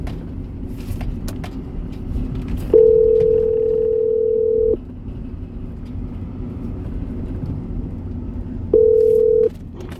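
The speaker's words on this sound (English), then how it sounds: "Calling Echo Brandon Camaro, mobile" A ringback tone sounds while a mobile number is being called through Siri, apparently from inside a car: two long, steady beeps several seconds apart over a low engine and road rumble.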